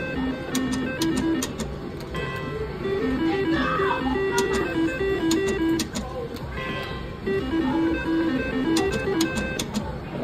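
Slot machine reels spinning on backup spins at a casino, with repeated short bright chimes and jingly electronic tones over a steady casino hum, looping melodic beeps recurring throughout.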